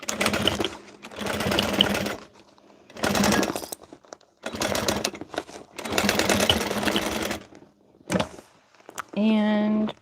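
A domestic sewing machine stitches a seam on a Halloween costume piece in several loud bursts of rapid mechanical whirring, separated by short pauses, ending with a brief higher whine.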